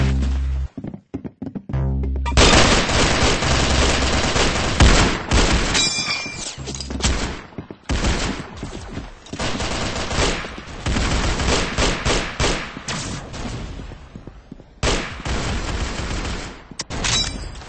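Rapid bursts of automatic gunfire and booming explosions from a shooter video game, loud and dense, with short gaps between volleys and no talking.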